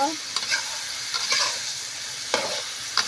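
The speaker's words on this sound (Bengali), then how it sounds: "সুন্দর করে ঝিঙেটা আমি নাড়াচাড়া করে ভাজা ভাজা করে কষায় নিব" Ridge gourd stirred and frying in a pan, a soft steady sizzle broken by several scraping strokes of a spatula, close and with no voices.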